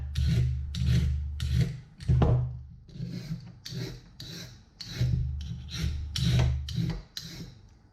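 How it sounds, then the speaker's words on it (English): A vegetable peeler scraping down a carrot in a kitchen, a series of about a dozen close, rasping strokes in an uneven rhythm, each a short scratchy swipe. "get the peeler, slice down to get rid of that outer"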